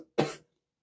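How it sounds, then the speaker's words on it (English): One short, close cough rings out alone, a single dry burst followed by silence. "I apologise for the cough"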